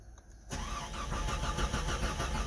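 A Comanche being cranked and started, quiet at first and then firing abruptly into a steady, rough idle close by.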